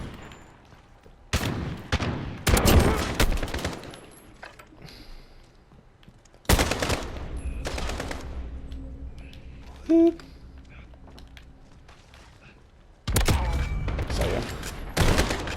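An MK2 rifle in Modern Warfare fires in several loud, close bursts separated by quieter gaps with faint game ambience, and someone talks briefly between shots.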